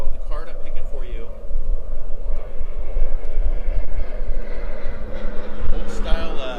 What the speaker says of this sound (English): old style vintage airplane going over.